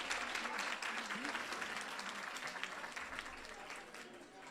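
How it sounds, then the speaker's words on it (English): A crowd applauds steadily at a women's leadership awards celebration, with dense, even clapping that fades slightly toward the end, heard fairly quietly. "Give a round of applause."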